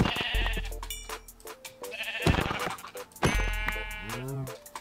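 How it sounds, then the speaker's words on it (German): Sheep in the video game Minecraft Sky Factory 3 bleat several times in a row, loud and close, with short wavering cries separated by brief pauses. "Warum habe ich hier so viele Schafe,"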